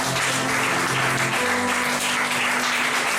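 A church congregation applauds in a steady, dense wash of clapping that carries on for the whole stretch, with a low sustained tone running underneath.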